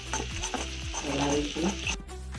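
Onions frying with coriander-cumin powder and hot chili powder are stirred in a pan for Gujarati kankoda shak, with a bright sizzle and soft repeated scrapes under background music.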